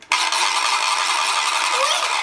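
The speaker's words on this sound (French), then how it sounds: "C'est le bruit d'une crécelle." A wooden ratchet rattle (crécelle) being turned gives a loud, continuous dry clatter of rapid clicks that starts abruptly and keeps going without a break for about two seconds.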